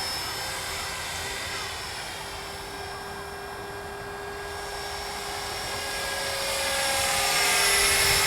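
A Blade 330s RC helicopter hovers nearby with a steady high-pitched motor whine and rotor buzz, holding an even tone that swells slightly louder toward the end.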